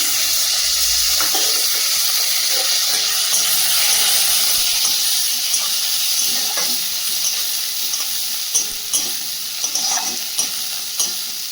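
Chopped ginger sizzles steadily in hot oil for a homemade Bengali fish curry, a loud, continuous frying hiss with light stirring scrapes and taps toward the end; no voices.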